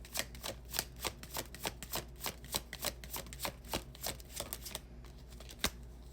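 Tarot cards shuffle in a quick, rhythmic run of crisp riffling snaps, close and fairly quiet, pausing briefly near the end before one last flick.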